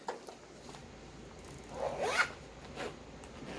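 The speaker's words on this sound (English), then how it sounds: "The zipper is on both sides." A zipper on a vintage bag with both-side zip pockets is pulled in one quick, moderately loud stroke, followed by a fainter short zip a moment later against a quiet room.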